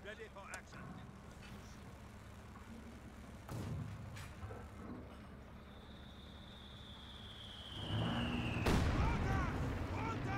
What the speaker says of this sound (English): More annoying mortar shots.